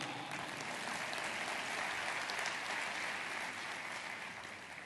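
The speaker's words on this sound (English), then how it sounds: "You can clap for that." Listeners at a digital citizenship talk for the Salam school group clap after the speaker finishes: sustained, full applause from a sizeable audience, steady and alone, easing off slightly near the end.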